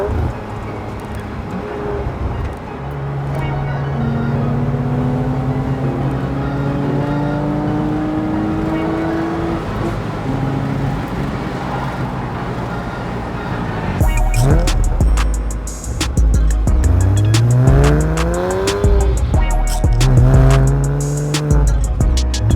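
A car with a 3.2-litre naturally aspirated flat-six engine drones steadily, then revs climb and fall in rising sweeps, loud and close with no talk.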